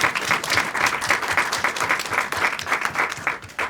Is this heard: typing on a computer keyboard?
no